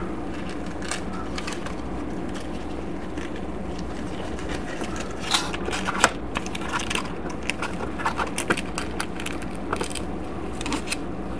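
Adhesive backing peeled away and the piece pressed down inside a gas station build being fitted with lights: a crackly, crinkling rustle with scattered sharp clicks and pops, close and fairly loud, growing busier toward the end, with no voices.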